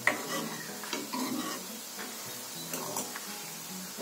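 Small chopped onions sizzle in hot oil being cooked down for a homemade hair oil, a steady close crackle and hiss broken by the scrape of a spoon stirring at intervals, with no talking.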